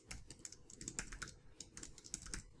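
Rapid typing on a computer keyboard while setting up a Selenium WebDriver TestNG class, with irregular clusters of crisp key clicks alone and close up.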